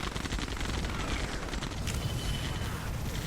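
Technical vehicles attack in a real-time strategy game, letting loose dense, continuous rattling gunfire with rapid overlapping bursts and booms that stay loud from start to finish.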